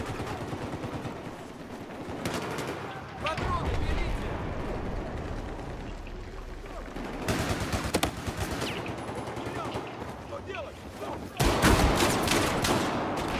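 A shotgun loaded with Magnum rounds fires in Battlefield 4 on a Karelia domination map. Heavy blasts come at irregular intervals among the din of distant gunfire, and people talk over parts of it.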